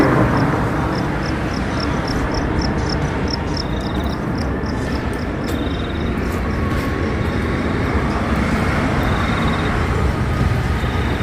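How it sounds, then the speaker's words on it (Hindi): Steady road traffic at night in Dwarka Sector 9, Delhi, a continuous broad rumble with occasional vehicles passing and faint high ticking insects over it, no voices. "तो ट्रैफिक आ रहा है, कोई गाड़ी इक्की दुक्की आ रही है"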